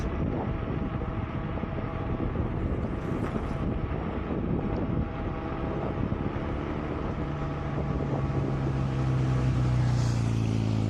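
Steady rushing wind buffeting the microphone while riding a Ruptor R6 v4 scooter over paving stones at cruise-controlled speed, dense broadband noise throughout, with a rising whine toward the end and no talking.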